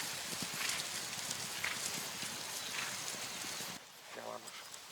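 A herd of horses walks near a drying river, and one horse is limping and lagging behind. Hooves clip-clop in a loose, uneven rhythm at moderate distance, under faint voices, then grow quieter near the end.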